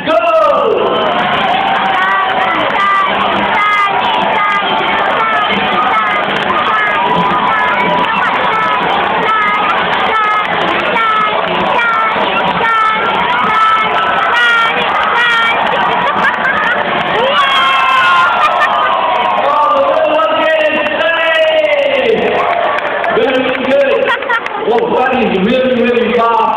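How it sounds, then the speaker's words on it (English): Children in a bird-show audience at Jurong Bird Park cheer and shout loudly and continuously, a dense crowd roar with excited kids' voices throughout. "You must cheer much louder this time, okay?"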